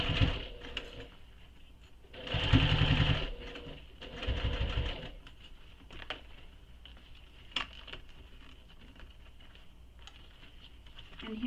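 Sewing machine stitching slowly across the flap of a belt bag, short bursts of rapid mechanical whirring separated by quiet pauses and faint handling clicks, close and fairly soft.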